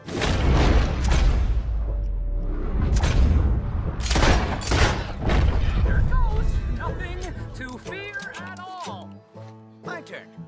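Rapid gunfire from a Western shootout in Red Dead Redemption 2, loud bursts of shots and booms in the first half giving way to character dialogue and ringing tones toward the end.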